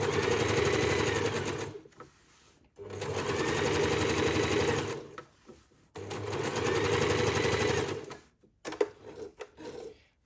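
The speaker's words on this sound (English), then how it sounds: "So we'll gently tug and stitch our parallel line all the way back." A sewing machine stitches a parallel line over a shirred bow top, running in three long, steady bursts separated by short pauses, with a few faint handling sounds at the end.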